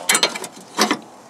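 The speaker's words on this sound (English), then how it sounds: "So we loosen the bolts there." A ratchet clicking as bolts are loosened on the air compressor bracket of a Tesla Model S, two short bursts of close, sharp metallic clicks separated by a pause.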